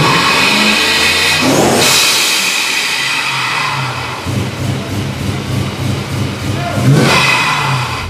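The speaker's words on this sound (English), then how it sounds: "it's a supercharger that makes the sound because it does boost and stuff" A car with a centrifugal supercharger revs loudly nearby at a Sunday car meet in Mumbai, the engine note rising and falling through two surges with a whining edge, voices murmuring in the background.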